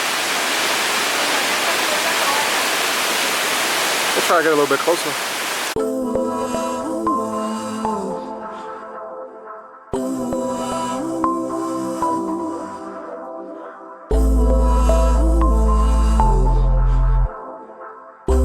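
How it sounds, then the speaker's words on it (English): Water pours down Santa Rita waterfall near Salento, Colombia in a dense, loud roar for about five seconds. Someone speaks briefly, then music takes over for the rest. "so we made our way to the waterfall."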